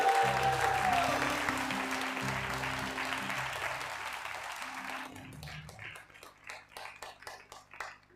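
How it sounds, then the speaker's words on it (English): A crowd at a kirtan festival in Rishikesh gives a round of applause that starts full and loud, then thins and fades out over several seconds as a voice begins talking. "Let's have another round of applause for the amazing Madhava Prabhu and his incredible team"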